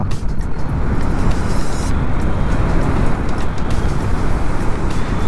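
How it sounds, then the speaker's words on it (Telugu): Steady, loud road traffic with cars and heavier vehicles rumbling past close by, a continuous wash of engine and tyre noise for the whole stretch, with no pauses. "ముందైతే ట్రాఫిక్ మామూలుగా లేదుగా"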